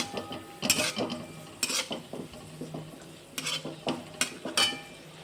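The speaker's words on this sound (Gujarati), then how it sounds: "પછી હું અડધા કપ જેટલી કોબી ઉમેરી દઈશ। હવે એને પણ આપણે ગોલ્ડન બ્રાઉન સુધી હલાવી લઈશ।" Cabbage and onion stirred in a hot pan for Hakka noodles, a utensil scraping and clinking against the pan in repeated strokes over a soft sizzle, close and moderately loud, with no talking.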